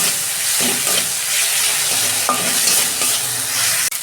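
Ginger and garlic sautéing in hot oil in a pan while being stirred, a steady loud sizzle with repeated scraping strokes of a spatula, close up, ending with a sharp knock.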